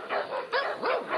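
Several rescued dogs at an animal shelter in Lipa, Batangas bark in quick overlapping bursts, close and fairly loud, with yelping, whimpering tones between barks and no talking.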